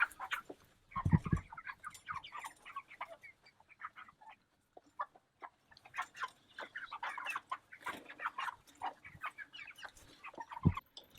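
Several meat chickens cluck and chatter continuously at close range, with scattered soft calls and occasional thumps underneath.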